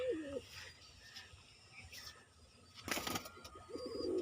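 Pigeons cooing at a loft where young birds are being fed, soft low coos rising at the start and again near the end, with a brief flutter of wings in between.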